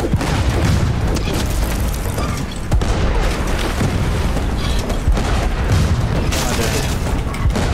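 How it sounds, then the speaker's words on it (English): A fish cannon fires during a pirate-ship battle in the video game Blazing Sails, with dense, continuous booming blasts and mechanical clatter over roughly eight seconds, loud and layered with no pauses. "He's got a fish cannon."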